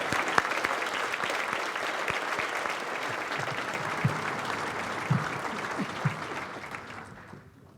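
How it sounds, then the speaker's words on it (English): A crowd applauds educators and students at a high school awards night, a sustained dense clatter of clapping that carries on for several seconds before fading out at the end. "let's give one last round of applause to all of our educators and students tonight"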